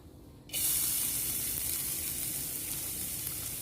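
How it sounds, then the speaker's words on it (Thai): Loud, steady sizzling of seasoning paste frying in hot garlic oil in a wok, bursting in abruptly after a brief quieter moment and continuing without pause. "ผัดสามเกลือต่อเลยค่ะ"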